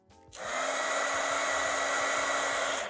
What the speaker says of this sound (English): Now I'll try with the heat tool to see which one is more powerful.